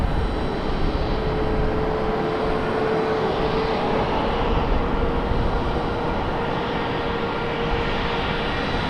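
Steady jet engine roar with a faint high whine from a Boeing 737 Max 9 airliner on the ground at Raleigh Durham International Airport, continuous and moderately loud, with no voices.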